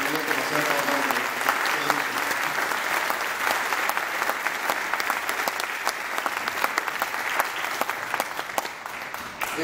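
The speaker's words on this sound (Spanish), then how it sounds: "Un fuerte aplauso otra vez para ellos" An audience applauds after a live music performance, loud sustained clapping from many hands filling the hall for nearly ten seconds, with dense sharp claps throughout and no talk over it.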